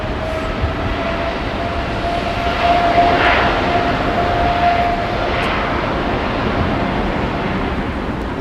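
An Air Canada Boeing 777 jet at an airport, a loud, close, continuous roar of engines with a thin steady tone, swelling slightly midway, with no voices.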